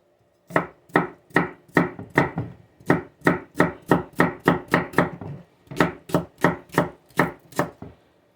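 A sharp knife chops plants on a cutting board for soup: crisp, evenly spaced thuds in quick bursts of strokes with brief pauses between groups, close and clear with no talking.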